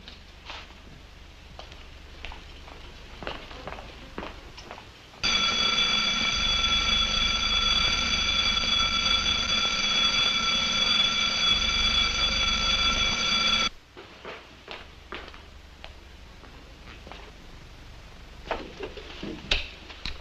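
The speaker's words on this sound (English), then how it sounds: "If the owl is moved out of range, the receiver stops reacting, and the alarm will be triggered." A security alarm goes off with a loud, steady electronic ringing tone that holds for about eight seconds, bracketed by quieter room sounds and faint taps before and after.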